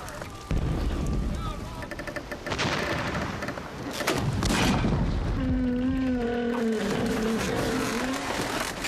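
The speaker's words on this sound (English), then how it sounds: "When the guns fired." Heavy naval guns fire aboard a wooden sailing ship, with booming blasts and rumbling impacts among shouts and tense voices, and a sustained tonal groan following.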